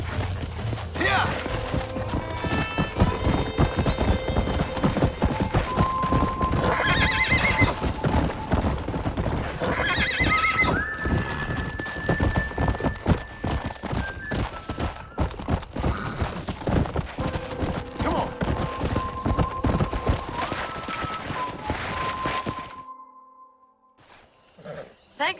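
A stallion in the video game Red Dead Redemption gallops with rapid rhythmic hoofbeats and gives several loud whinnies and neighs. The galloping runs steadily, then cuts off abruptly near the end.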